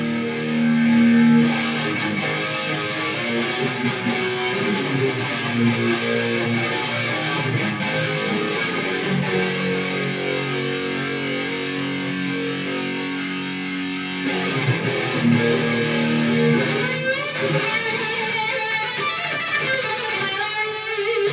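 Heavily processed electric guitar through an ART SGX2000 effects processor plays continuously, thick and saturated with effects, loud and sustained throughout.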